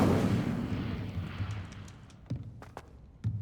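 Incendio fire spell cast in Hogwarts Legacy, a burst that starts loud and whooshing, then fades into a low rumble, with a few sharp crackling pops near the end.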